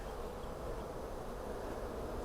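Honey bees buzz in a soft, continuous hum during a honey harvest, a dense swarm sound heard faintly and evenly throughout with no talking.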